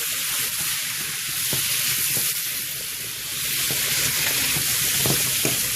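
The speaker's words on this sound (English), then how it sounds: "I'm going to go ahead and put our zucchini in. That's the sound we want to hear." Zucchini frying in butter in a hot pan gives a steady, close sizzle and hiss, with a few soft clicks from stirring and no speech.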